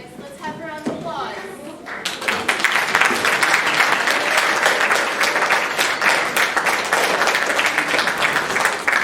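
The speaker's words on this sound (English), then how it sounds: "Let's have a round of applause." An audience bursts into dense, loud applause after a high school play, starting abruptly after a brief spoken moment and continuing steadily to the end.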